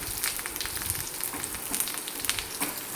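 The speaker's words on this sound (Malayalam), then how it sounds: "ഇനി ഉള്ളി നല്ലോണം ഒന്ന് മൂക്കട്ടെ" Shallots and curry leaves frying in oil for a homestyle Kerala chicken curry, giving a steady close sizzle with small crackling pops and occasional stirring scrapes, no voices.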